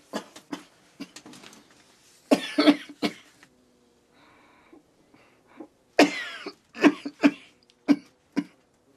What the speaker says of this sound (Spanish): Virginio se despierta más tarde que Sisa debido a un ataque de tos.